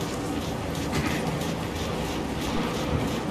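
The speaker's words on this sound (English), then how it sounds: "Our rocket train's facing the wrong direction." A rocket train sits on a turntable in the video game Gears of War 5, giving a steady low rumbling rail drone with faint rhythmic clanks, continuous and moderately loud.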